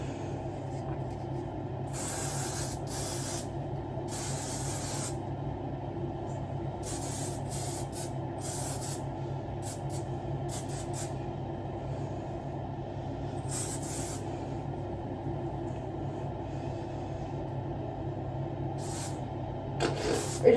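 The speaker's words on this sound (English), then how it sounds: "We're just gonna spritz her a little bit." A spray bottle misting water onto hair, several short bursts of soft hiss at uneven intervals, close by over a low steady background hum, with no talking.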